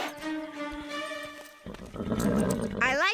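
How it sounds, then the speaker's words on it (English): A cartoon horse from a children's animated horse-riding series lets out a bright, wavering whinny, loud and close, rising in pitch toward its end. "Can't believe I'm riding Chloe's horse."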